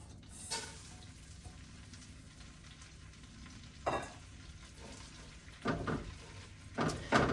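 Two cups of oats toasting in frothy melted butter in a pan for granola: a soft, steady sizzle runs throughout, with a few louder scraping stirs near the middle and end, and no one speaking.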